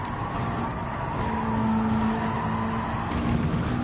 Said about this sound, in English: A bit late on the brakes there, only just got the car stopped.